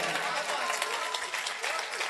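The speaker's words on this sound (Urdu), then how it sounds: "دوستو ایک بار زوردار تالی ہونی چاہیے" An audience at an Urdu poetry mushaira breaks into dense, steady applause, a continuous wash of many hands clapping close by, with faint voices mixed in.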